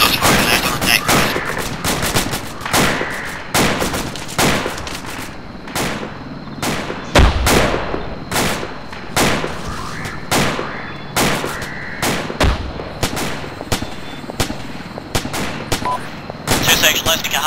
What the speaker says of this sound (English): Shots fired left on deck